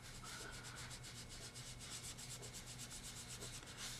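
A sponge is rubbed lightly over paint on a surface, a soft, continuous scratchy rubbing with quick repeated strokes, close and quiet.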